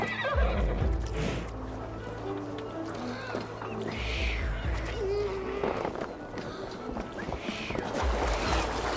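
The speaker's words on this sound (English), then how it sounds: "Your horse is a little unsettled, but safe." A horse in the video game Assassin's Creed Valhalla neighs and whinnies several times amid clip-clopping hooves and background game sounds, loud and close.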